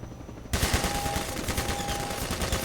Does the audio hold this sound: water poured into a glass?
no